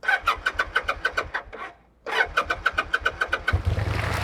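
A 2005 Kawasaki Vulcan 800 motorcycle cranks with a rapid, rhythmic starter chug, pauses for a moment, cranks again, then catches and settles into a running engine.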